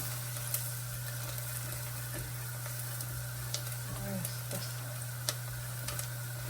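Onion with a teaspoon of red pepper frying in a pan, a steady soft sizzle under occasional light clicks and stirring scrapes, close and even throughout.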